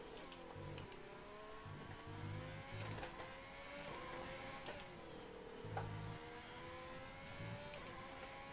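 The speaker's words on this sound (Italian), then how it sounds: "questo qua è il sound del motore Ferrari" A Ferrari Formula 1 engine in the F1 2020 video game revs and shifts continuously, its pitch climbing and dropping through gear changes, heard faintly and with no talking.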